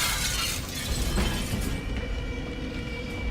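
Glass shattering in The Evil Within 2, a loud crash of breaking glass with scattering debris amid a roaring burning-building ambience, fading into steady noisy rumble, no voices.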